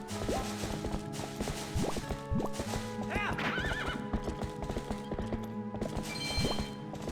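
A horse whinnies and hooves clip-clop steadily through grass over a busy layered soundtrack in The Legend of Zelda: Twilight Princess, with short sharp hits scattered throughout.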